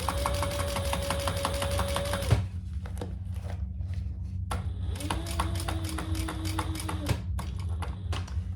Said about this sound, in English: be sure and backstitch a couple times across where the flap connects.